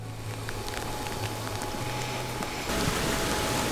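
Steady rain falls on an Irish Neolithic dolmen tomb near a river tributary, a dense, even hiss of drops on stone and ground that swells louder near the end, with no talk.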